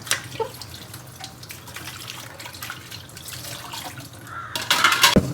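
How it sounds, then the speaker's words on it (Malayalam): Tap water runs steadily over soaked mung beans being washed in a sink, a continuous splashing hiss that swells louder and brighter near the end as the flow hits the beans and bowl. "ഇത് ഇന്നലെ തലേന്ന് വെള്ളത്തിലിട്ടിട്ടുള്ള മുമ്പേനാണ് കേട്ടോ. നന്നായിട്ട് കഴുകി വൃത്തിയാക്കിയിട്ട്"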